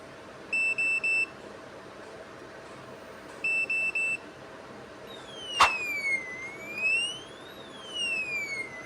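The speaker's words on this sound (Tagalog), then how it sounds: "After several attempts, mag-alarm siya." A cheap Tuya smart door knob sounds its alarm after repeated failed fingerprint attempts: two short bursts of triple electronic beeps, then a sharp click and rising, falling chirping sweep tones, fairly close and clear with no talking.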